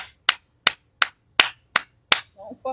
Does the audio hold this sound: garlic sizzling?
no